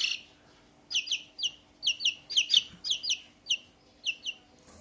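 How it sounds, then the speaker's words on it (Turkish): A young chick peeps repeatedly, with bright high-pitched chirps coming in quick pairs and short bursts, close and clear over a quiet hum. "Bize yine bir misafir geldi ama bu sefer civciv"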